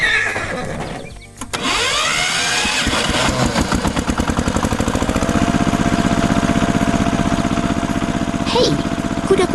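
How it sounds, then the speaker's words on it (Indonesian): A cartoon red tractor pulling a trailer on a farm, its engine chugging in a loud, fast, steady rhythm after a brief whinny-like start, with a short squeak late on. "Traktor merah sedang menarik trailer yang serupa."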